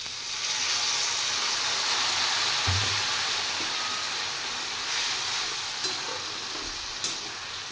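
Water poured into a frying pan of lote shutki (dried Bombay duck) curry, raising a continuous hissing sizzle close by, with a few soft clinks and stirring scrapes over it and no voices.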